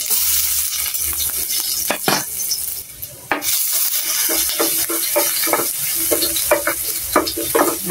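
Plenty of garlic frying in oil in a pan, a loud continuous sizzle broken by repeated clinks and scrapes of a utensil stirring against the metal, with no talking.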